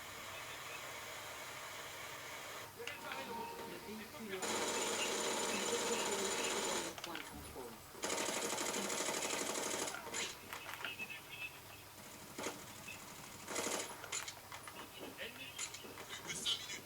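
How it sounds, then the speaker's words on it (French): Heavy machine gun in the video game Brink firing in rapid sustained bursts, harsh dense buzzing rattles broken by short pauses, with someone speaking in between. "ça a l'air d'être du genre machine gun"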